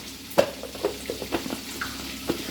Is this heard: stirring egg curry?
yes